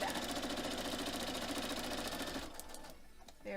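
A sewing machine stitches a foundation paper pieced quilt block with a fast, steady mechanical chatter, close and clear, slowing and pausing briefly near the end before resuming.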